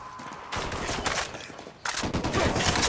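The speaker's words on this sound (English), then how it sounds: "Taking fire from the basketball court" Gunfire in Ghost Recon Wildlands, with rapid bursts of automatic shots rattling in two loud dense stretches separated by a brief lull, heard fairly close.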